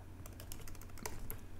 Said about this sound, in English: I've typed in my password.